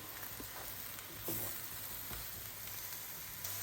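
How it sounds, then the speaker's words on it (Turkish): Mushrooms frying in a pan of oil and melted butter give a steady, fairly quiet sizzle throughout, with a faint stirring scrape near the middle and no talking. "Tavaya sıvı yağ ve tereyağı ekledim. Eridikten sonra mantarları üzerine ilave ettim. İyice karıştırıyorum."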